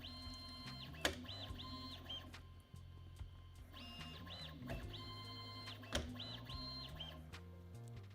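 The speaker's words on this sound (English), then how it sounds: "pretty much regular printer noises" A 3D printer running tool changes during a Tridex-to-TriMax conversion: stepper motors whine in rising and falling melodic tones, with a few sharp clicks and clunks over a steady mechanical hum, recorded up close.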